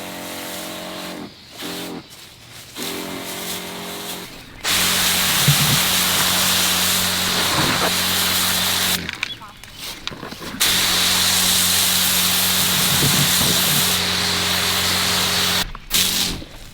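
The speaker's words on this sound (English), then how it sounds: "I want to soak down the trunk, the whole tree," A sprayer soaks a tree trunk to kill bugs, its hissing spray running in long bursts over a steady engine or pump drone, with pauses between passes.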